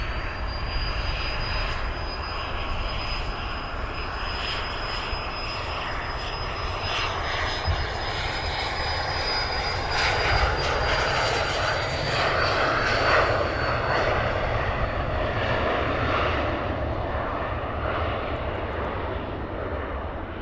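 A jet airliner departs Luton Airport on a very cold early morning, its engine roar steady and loud throughout, a broad rushing drone with a high whine that slowly fades, no talk over it.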